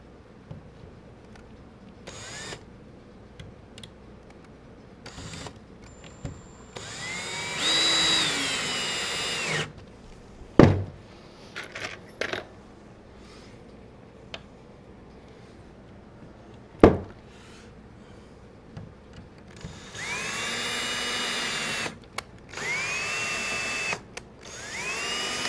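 A power drill drives screws into a wooden high deck chair from Birch Grove Furnishings in several separate bursts of whirring, with clicks and knocks of handling between them and quiet gaps, up close.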